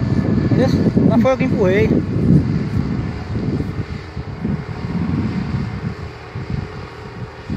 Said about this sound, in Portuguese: O trator tá subindo aprumado não, mas tá cavando